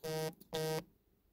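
A mobile phone buzzes with a notification in a quiet room, two short loud electronic buzzes in quick succession and then silence.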